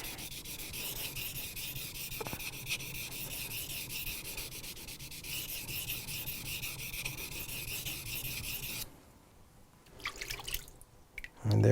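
A new primary edge is ground on a knife by sanding or grinding, giving a steady, rough rubbing rasp that runs for about nine seconds, then stops and leaves faint shuffling noises.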